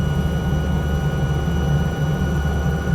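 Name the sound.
helicopter engine in Microsoft Flight Simulator video game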